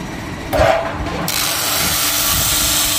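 A wooden kamancheh bowl spins on a lathe while a cutting tool scrapes and rubs against it, starting with a louder burst of abrasive shaving and then settling into a steady, close, continuous grinding hum.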